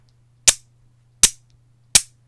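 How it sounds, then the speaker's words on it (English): Magnets snap together three times, each a sharp, bright click spaced about a second apart, close and alone over a faint low hum. "That's the sound of my magnets,"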